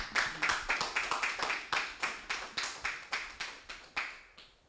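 A church congregation at a Sunday service claps for Jesus, a steady run of about a dozen and a half rhythmic, unison hand claps, evenly spaced and moderately close, with no talking over them.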